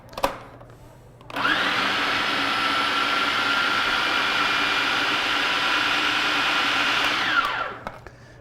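Blender pureeing salt cod brandade with potatoes and milk, a steady loud motor whir starting after a second and running evenly for about six seconds before spinning down.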